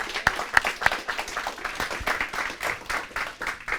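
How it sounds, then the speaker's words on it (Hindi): Applause from a group of people, a steady wash of many claps with a few sharper, louder claps near the start, continuing throughout. "बहुत जोरदार तालियां"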